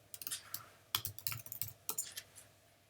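Quick clattering keystrokes on a computer keyboard as someone types a Google search, fast irregular bursts of close clicks with brief pauses between them.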